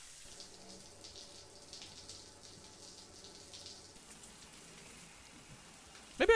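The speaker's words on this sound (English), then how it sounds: "I guess we'll use the shower." A shower running in the Death Stranding: Director's Cut video game, a soft, steady hiss of falling water close by and fairly quiet, ending in a sudden louder tonal burst.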